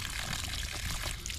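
Water pouring steadily from a broken drinking-water supply pipe that once fed a house, a continuous close splashing rush with no talk.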